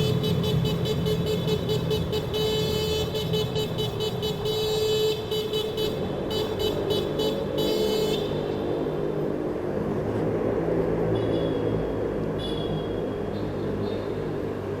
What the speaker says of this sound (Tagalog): Yung bubusina-busina.